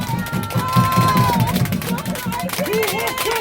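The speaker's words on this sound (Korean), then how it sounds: "큰 박수 부탁드리겠습니다" A rally crowd outside a party headquarters claps and cheers loudly, a dense roar of applause mixed with whoops and babble, with a voice over the noise.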